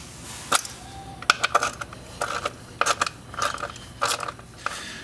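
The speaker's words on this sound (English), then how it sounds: "using our 10mm wrench, we're going to take out the 4 bolts that hold this coil pack on" A 10mm wrench works the bolts on a MINI Cooper's coil pack, making a string of sharp metallic clicks and ratcheting taps in irregular bursts, close up and fairly quiet.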